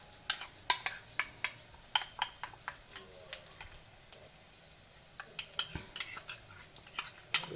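Metal spoon stirring yogurt into a spice mix in a pan for paneer butter masala, tapping and scraping in quick irregular clicks with a short pause midway, close and fairly loud.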